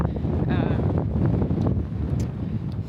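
Steady, roaring wind buffets the microphone at Great Sand Dunes National Park, a loud continuous rush with low rumble throughout, and a person's voice briefly surfaces beneath it.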